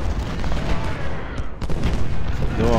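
Cannon and musket fire rumble through a Civil War battle in the strategy game Ultimate General: Civil War, a dense, continuous barrage of booms and crackling volleys with no clear gaps.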